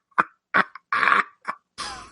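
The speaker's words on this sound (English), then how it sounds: "I just made myself laugh so hard I coughed." A burst of several harsh coughs from a man who has just been laughing hard, broken into uneven bursts with a longer hacking cough at the end, close and fairly loud with no talk over it.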